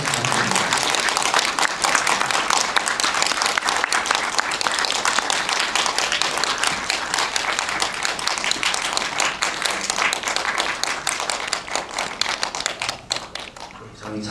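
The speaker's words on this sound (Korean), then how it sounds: "큰 박수 부탁드립니다." Steady, dense applause from an audience at a film screening Q&A, loud and continuous as the director and cast walk in, with a few louder claps and cheers mixed in and tapering slightly near the end.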